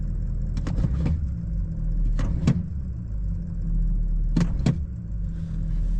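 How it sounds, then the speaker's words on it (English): A Ford 6.0 Powerstroke diesel truck engine rumbles steadily at a loud, close idle-to-rev level, with a few sharp clanks and knocks rising above the low drone. "I'm gonna floor it to the ground and see how high the RPM goes"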